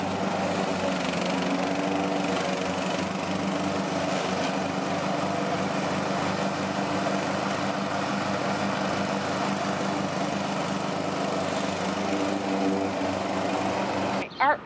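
A red lawn mower runs steadily on grass with a constant buzzing engine drone, close and loud, that continues alone without pause and cuts off briefly near the end.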